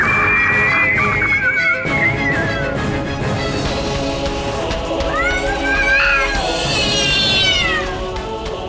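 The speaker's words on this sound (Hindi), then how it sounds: "बिल्ली के रोने की आवाज।" A cat cries and meows in rising, wailing calls, several drawn-out mewls that carry clearly over a busy background of crowd and voices, as a bad omen in a devotional drama about young Hanuman.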